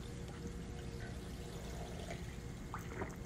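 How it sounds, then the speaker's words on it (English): Soft water sound effects from a survival RPG, a faint continuous pouring and trickling wash with scattered small drips, quiet and steady with no voices. "Nice little sound effects of water plus um, kind of a flute"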